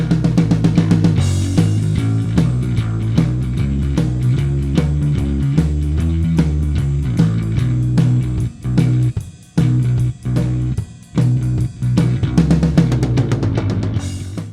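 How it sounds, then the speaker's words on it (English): Drums and bass guitar lock into a swinging groove in a band's song, with steady bass notes under crisp percussion hits that drop out into sparse stabs near the end, loud and close with no voices. "was pretty much just the interplay between the percussion and the bass"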